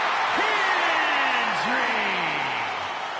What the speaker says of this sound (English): The crowd becomes unglued every time this man makes an appearance.